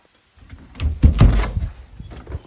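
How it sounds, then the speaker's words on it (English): A door is pulled open during a live demonstration speech, with a fairly loud rattle and thump of handling noise lasting over a second before settling. "I will demonstrate how to open a door for a lady."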